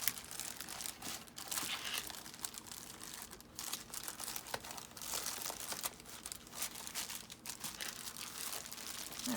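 Fabric being folded down and pressed into a junk journal, a faint, continuous rustle and crinkle of cloth and paper handling with small taps, close and quiet, no talking.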